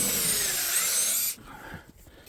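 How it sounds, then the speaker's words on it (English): A power drill bores tap holes into maple trees for maple syrup season, a loud, steady high whine for just over a second before it cuts off, leaving quieter outdoor handling noise. "me drilling the hole and putting the spiles in."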